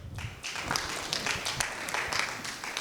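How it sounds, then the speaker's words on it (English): An audience applauds at an annual conference, giving a dense, steady patter of clapping for a few seconds. "Let's clap for her."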